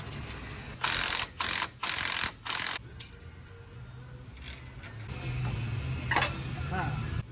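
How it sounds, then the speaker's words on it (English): Ratchet work on a truck's Ford Motorcraft steering damper during removal: several loud bursts of rapid clicking early on, then quieter clanks and shop noise under distant talk. "It doesn't take Chris and Jimmy any time at all to get this steering damper off."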